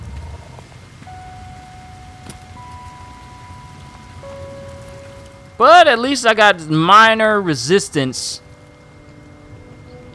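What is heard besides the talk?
rain on a planet in the video game No Man's Sky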